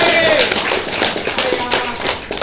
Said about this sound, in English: Let's give Pav a round of applause.